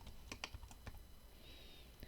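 Keystrokes on a computer keyboard typing out a short word, a quick cluster of sharp clicks followed by a few sparse taps, close and fairly quiet with no talking.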